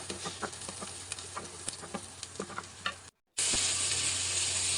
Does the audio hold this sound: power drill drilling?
no